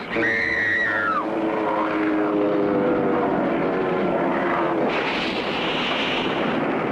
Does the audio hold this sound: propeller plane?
yes